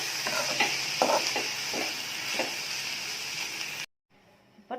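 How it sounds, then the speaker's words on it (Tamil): Cabbage stir-fry with grated coconut sizzling in a pan while being stirred and mixed, a steady close hiss with scraping strokes, then cutting off abruptly to near silence. "தேங்காய் துருவல் கொஞ்சம் போட்டுக்கலாம். போட்டு நல்லா மிக்ஸ் பண்ணி விட்டுலாம்"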